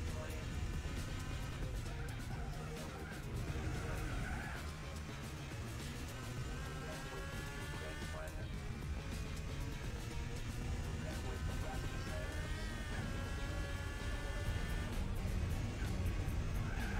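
BMW race car engines in Gran Turismo 4, a continuous droning engine whine rising and falling with gear changes, steady and moderately loud, with a voice talking over it.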